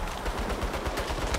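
Rapid machine-gun turret fire in the Saints Row video game, a dense, continuous stream of loud, close shots that hammers through the entire stretch without pause.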